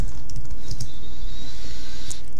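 Rapid tapping of keys on a computer keyboard while entering a password on a Mac, close and steady clicks for a couple of seconds with no talking.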